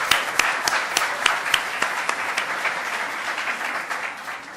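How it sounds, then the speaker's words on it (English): A crowd applauds at a White House youth jobs event, with brisk, sharp claps in a steady, fairly loud burst that thins slightly toward the end. "Let's give them one more round of applause."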